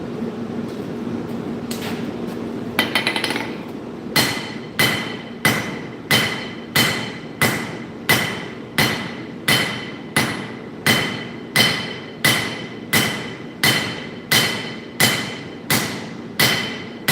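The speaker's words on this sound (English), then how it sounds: "The next heat, I'm going to draw down the heel with my crossbeam hammer." Crossbeam hammer drawing down the heel of a hot steel nakiri knife blank, a steady run of loud, evenly spaced ringing strikes about twice per second after a few scattered knocks, with no voices.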